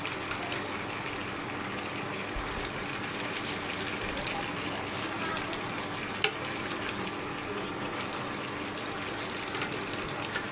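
Spicy goat meat curry sizzles and fries steadily in a pan while being stirred, a dense continuous crackle with soft scraping and one sharp clink partway through.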